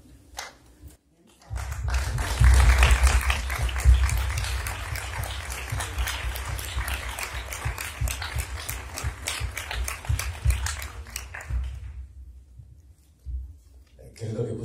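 Audience applauding a film director at a screening talk, a dense burst of many hands clapping that swells in after a quiet start, holds steady for about ten seconds, then fades out.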